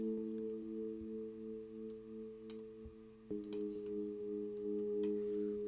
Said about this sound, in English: this is the Addictive Keys Mark 1, just a basic Rhodes patch